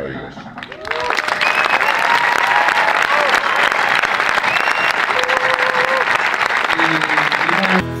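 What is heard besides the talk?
audience applause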